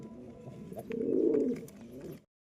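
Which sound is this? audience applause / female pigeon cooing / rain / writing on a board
female pigeon cooing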